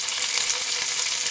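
Cumin seeds fry in hot oil for a potato fry, a bright, steady sizzle full of fine crackling pops, close and continuous with no voices.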